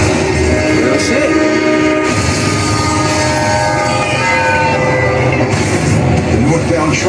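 A northbound GO commuter train nears a railroad crossing where a car is stuck on the tracks, its loud rumbling roar and horn filling the scene continuously, close by, with speech mixed underneath.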